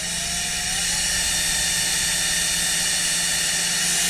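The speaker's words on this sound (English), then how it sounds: "I'm gonna drill through for my bottom base plate holes" A power drill bores steadily through a boat hatch base plate on a workbench, one loud continuous whine held for the whole stretch with no pauses.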